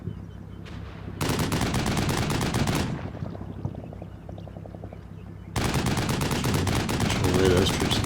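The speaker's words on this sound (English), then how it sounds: "And some covering fire in the meantime." Sustained automatic weapons fire from a combat video game set in the Cold War, loud rapid bursts that pause briefly and resume, with scattered shots and battlefield noise in between.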